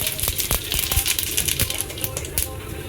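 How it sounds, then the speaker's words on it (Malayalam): Rapid, irregular pops and crackles of mustard seeds bursting in hot oil, sharp little clicks scattered over a steady sizzle, close up. "കടുക് ഏകദേശം നല്ല പൊട്ടി സെറ്റായിട്ടുണ്ട്"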